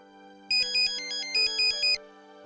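A mobile phone ringtone plays clearly alone: two short bursts of a bright electronic melody, each a quick run of repeated chiming notes over a sustained tone.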